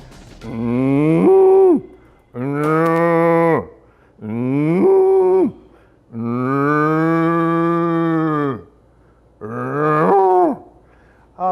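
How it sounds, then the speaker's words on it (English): Cow mooing loudly and close, five long drawn-out lowing calls with short gaps between them, no other sounds over them. "It's a cow. It makes this sound."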